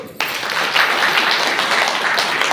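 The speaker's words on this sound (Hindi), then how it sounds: "जोरदार ताली बजा दो" A burst of loud audience clapping breaks out suddenly at a Bhagavat katha religious discourse, then carries on as a thick, even wash of applause without speech.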